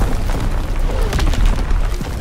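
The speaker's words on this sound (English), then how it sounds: "Incoming enemy artillery." Enemy artillery explodes in the World War II shooter Call of Duty WW2, a loud, dense rumbling boom that fills the whole moment with heavy low-end blast noise and crackle, close and overpowering.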